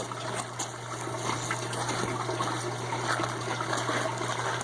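Gold Webb concentrator running water through gold concentrates, a steady close rush and trickle of flowing water with a constant low hum, no voices.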